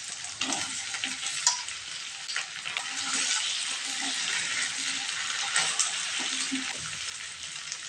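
Potatoes frying in a pan with ginger, cumin and chilli paste give a steady, dense sizzle throughout, with occasional stirring scrapes and small clatters, and no talking.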